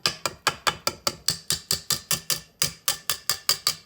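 A whisk coated in butter is rapped against the side of a mixing bowl about sixteen times in a quick, steady rhythm, each tap a sharp, close knock with no talking.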